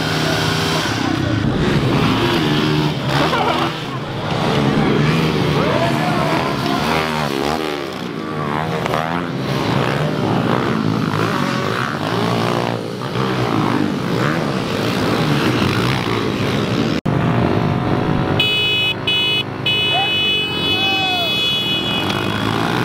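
Pit bike engines race at the KROC17 event, a steady high buzzing engine drone that carries on under loud excited talk throughout.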